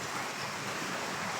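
Strong wind gusts hard across the microphone, a dense continuous roar for a brief moment with no voices.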